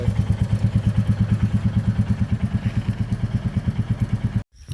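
A Royal Enfield Bullet motorcycle engine idles close by with a loud, even low thump-thump beat that repeats rapidly and steadily before cutting off abruptly near the end.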